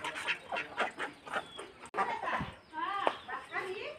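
Domestic ducks at a village house quack in short repeated calls, partly masked by people talking close by.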